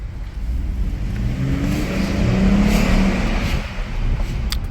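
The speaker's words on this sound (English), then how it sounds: "V6 pulls good, sounds great" Ford F-150 XL pickup with a V6 engine pulling on a drive, a steady mid-pitched engine drone that swells under load and then eases, heard from inside the cab with road rumble and no talk.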